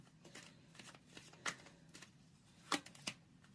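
A deck of tarot cards is shuffled and cards are drawn, quiet close riffles and slaps with a couple of sharper snaps, heard in a still room without speech.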